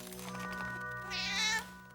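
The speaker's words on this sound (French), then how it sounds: "Qui a apporté ce chat?" A cartoon cat gives a short meow, rising and then falling over a soft musical background, clear and close before the music tails off.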